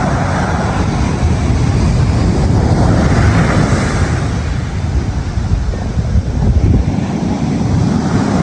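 Big surf pounds a beach at San Antonio, Zambales, under red-flag conditions, a continuous loud roar of breaking waves mixed with heavy wind buffeting the microphone.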